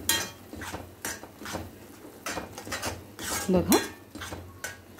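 Spatula scraping and clinking in a pan while chutney with a small piece of jaggery is sautéed, brisk metallic strokes in irregular bursts, with a brief spoken word at one point.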